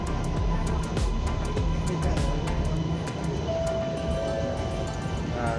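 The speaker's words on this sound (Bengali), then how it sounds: "আমাদের ট্রেন এসে গেছে এখন উঠে পড়বো" A metro train pulls into a Kuala Lumpur station with a steady loud rumble and hiss, a repeated ticking rhythm, and a sustained tone rising near the end, with no talk.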